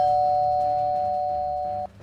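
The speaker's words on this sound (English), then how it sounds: "That's the doorbell. I'll go answer it." A single electronic doorbell tone rings loud and steady for nearly two seconds, then cuts off sharply into quiet indoor room noise.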